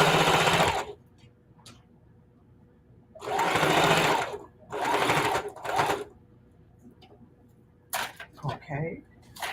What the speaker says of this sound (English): I was sewing over about 6 seams.